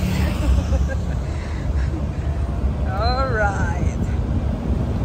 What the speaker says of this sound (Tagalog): We are on top of the truck.